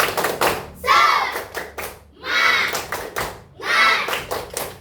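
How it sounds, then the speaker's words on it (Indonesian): Children in a classroom do a patterned spirit clap, bursts of quick hand claps and taps in a steady rhythm separated by short pauses, with young voices chanting along. "ayo kita tepuk semangat"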